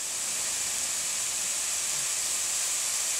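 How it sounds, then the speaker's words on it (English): Steady, bright sizzling hiss of onions frying in a hot pan, constant and close, with no talking. "So we'll let that sizzle, and we'll be back with the mushrooms."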